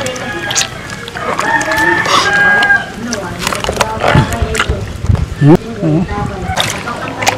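A rooster crows amid steady background noise while people chat nearby, the crow partly buried under their voices and other outdoor sounds.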